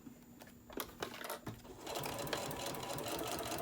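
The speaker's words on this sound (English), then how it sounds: "I'm going to keep sewing." Sewing machine stitching a candy wrapper zipper pouch, a steady close mechanical whir of rapid stitches with brief pauses and bursts as the fabric is turned at a corner.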